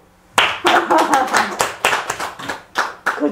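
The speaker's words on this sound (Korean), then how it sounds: "박수" Clapping at a Sunday Buddhist dharma service starts after a short silence and comes as a run of distinct, loud, close hand claps in an irregular rhythm, at times blending into brief group applause.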